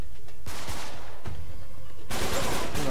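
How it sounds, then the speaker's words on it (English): Gunfire in the video game Uncharted 3: loud, close rapid shots in sharp bursts, with a dense volley rising near the end. "I was shooting perfectly through that hole."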